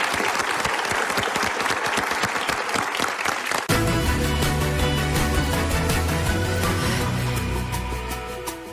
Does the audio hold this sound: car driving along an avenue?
no